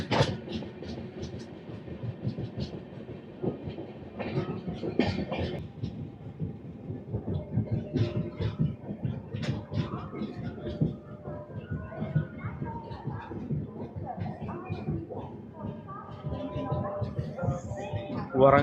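The Andhra Pradesh Superfast Express, running from Visakhapatnam to New Delhi, rolls toward Warangal station with a steady rumble and rhythmic clatter of the carriages, while people talk throughout.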